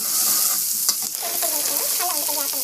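Onion and green chilies sauté in a pan for chutney, a steady close sizzle and crackle of frying with stirring scrapes running throughout, no voices.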